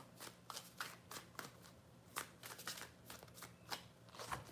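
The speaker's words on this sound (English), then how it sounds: "Three shuffles." Tarot cards being shuffled by hand, a run of crisp riffling bursts repeating at an uneven rhythm, close and fairly quiet with no talking.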